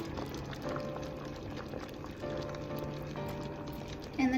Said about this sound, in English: I'm going to add in about a half a can of coconut milk